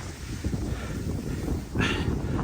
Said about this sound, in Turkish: Rüzgarlamaya başladı.